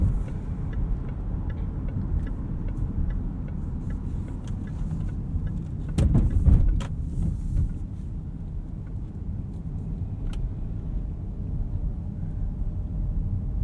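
Road and tire rumble from a 2018 Jaguar E-Pace SE P250 on big 19-inch low-profile wheels, steady throughout with a few sharper thumps over bumps partway through, no talking.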